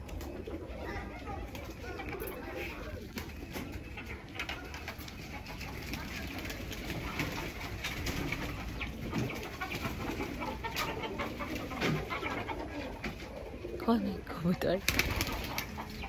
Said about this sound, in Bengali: এখানে কবুতরের অনেক বড় বাসা